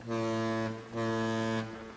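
A big cartoon ship sounds its deep horn twice near a bridge, two long, loud, steady blasts separated by a brief pause.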